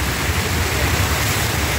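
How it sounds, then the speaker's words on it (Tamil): Heavy, forceful river water rushing close by near Madurai, a loud continuous churning roar that fills the whole clip without any talking. "இந்த தண்ணி ஓடுற சவுண்டே ரொம்ப ஹெவியாக வருது"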